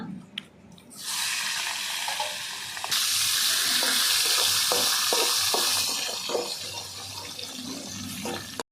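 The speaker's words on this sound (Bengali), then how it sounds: "এবার মাছের মাথাগুলো ভেজে নেব" Catla fish heads fry in hot oil, a sizzle that swells after the first second and roars loudest midway, with scattered clinks of stirring and no talking.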